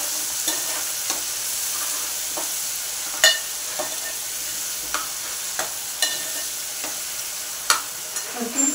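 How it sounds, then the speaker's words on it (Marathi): A ground masala paste with tomato and curry leaves sautéing in a pan for a spicy Malvani eel fish curry, a steady hissing sizzle broken by scattered clicks and scrapes of a spoon stirring. "त्यातच आपण कढीपत्ता आणि टोमॅटो हे टाकणार आहोत। एक मिनिट त्याला परतून घेऊया,"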